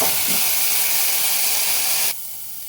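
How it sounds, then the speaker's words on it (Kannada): Beans and broccoli fry in a pan, giving a loud steady sizzling hiss close up for about two seconds before it drops away abruptly, with no voices. "ಈಗ ಈ ಬೀನ್ಸು ಮತ್ತು ಬ್ರೋಕೊಲಿ ಚೆನ್ನಾಗಿ ಫ್ರೈ ಆಗಿದೆ"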